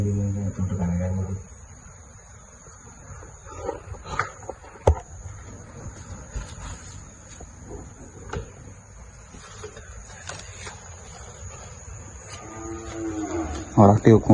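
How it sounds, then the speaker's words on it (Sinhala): Cattle moo loudly and close by at the start and again at the end, with scattered knocks and rustling in between and a faint steady insect-like whine throughout. "හරක් ටික ඔක්කොම කලබල."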